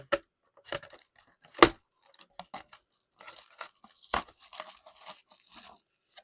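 A blade slices through plastic packaging to free a Transformers Dinobot toy, giving scattered crinkling, tearing and crunching bursts of varying loudness close by, with short quiet gaps between them and no talking.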